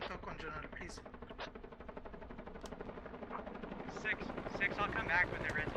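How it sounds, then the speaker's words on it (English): A helicopter comes in to land in a military video game set at a desert fortress in Iraq, its steady rotor drone running throughout beneath overlapping radio chatter and voices, with occasional sharp clicks and distant gunfire. "Helicopter coming in as command comms continues."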